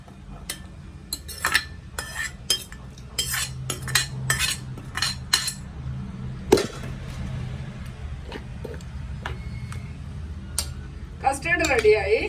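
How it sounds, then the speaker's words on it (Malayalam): Fruit for a fruit salad, including orange and cooked pineapple, is added to a bowl. A spoon clinks and scrapes against the dish in a run of sharp, close taps, with quieter stirring and a final clatter. "ഇനി നമ്മൾ പൈനാപ്പിള് വേവിച്ച് വെച്ചതും കൂടെ ചേർത്ത് കൊടുക്കാം."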